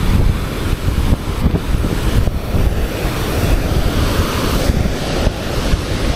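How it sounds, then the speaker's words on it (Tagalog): Powerful ocean waves crash and churn against rocks in a continuous heavy wash, mixed with rough gusts of wind battering the microphone, with no voices. "Sobrang lakas ng alon."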